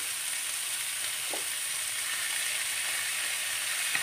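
Potatoes frying on a high flame with salt and ginger paste, giving a loud, continuous hissing sizzle that stays even throughout, with one faint clink partway and no voices.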